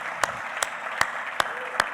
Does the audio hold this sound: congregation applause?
yes